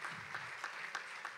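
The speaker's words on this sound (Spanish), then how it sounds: "así que un aplauso para él" An audience at a Spanish-language conference applauds for someone who made the presentation graphics: a steady, dense patter of clapping with a few louder surges, and no voices over it.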